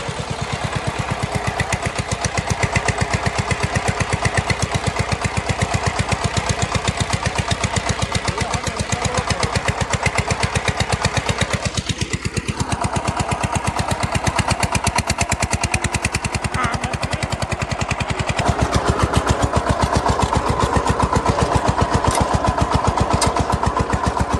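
A tractor engine, hired to work a 20-bigha field, runs steadily nearby with a fast, even diesel chugging and clatter, loud and continuous, with no clear talk.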